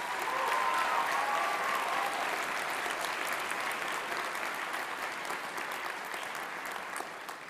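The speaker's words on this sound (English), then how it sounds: "Let's give our faculty and staff a round of applause, please." Sustained applause from a large audience at a college convocation, steady clapping filling the room and slowly tapering toward the end.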